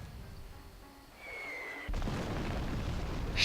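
A shot explodes in the turn-based strategy video game Greed Corp: a rising whistle, then a sudden loud blast that rolls on into a sustained rumble.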